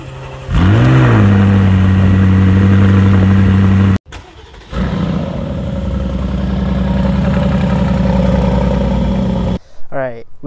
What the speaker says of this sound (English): we first gotta move the 600 LT and the Vantage out of the way